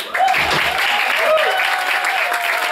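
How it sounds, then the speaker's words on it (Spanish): An audience at an album launch in a concert hall applauds, a steady, full burst of clapping with some voices underneath, lasting the whole stretch. "Un aplauso para Walter."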